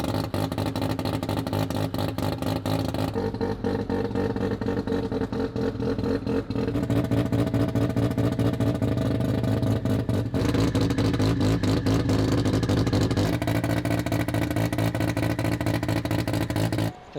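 A Corvette fitted with a rebuilt semi-peripheral port two-rotor rotary engine and downpipe runs close and loud at a steady, choppy, rapidly pulsing idle, with a slight rise in pitch partway through.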